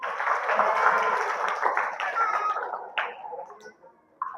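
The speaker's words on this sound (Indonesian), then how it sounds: "Tepuk tangan untuk kita semua." Applause and clapping from a school audience at an Adiwiyata outreach session, a dense burst of many hands that fades after about three seconds, with a brief renewed patter near the end.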